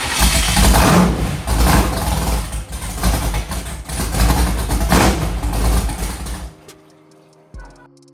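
A Chevrolet Cutlass drag car engine fires up and runs loud and rough with revving swells for several seconds, then cuts off abruptly near the end.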